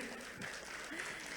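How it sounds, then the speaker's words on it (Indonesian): A seminar audience on Islamic banking and hajj fund management gives a quiet, steady round of applause, soft continuous clapping heard at a distance. "boleh dong kita berikan tepuk tangan dulu."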